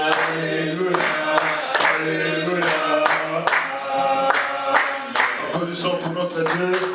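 A church congregation claps along in worship, a steady rhythmic hand-clapping pulse roughly twice a second running under a full, busy wash of music and voices.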